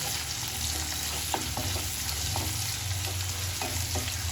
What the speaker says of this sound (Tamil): நல்லா வெங்காயம் வதக்கிக்குங்க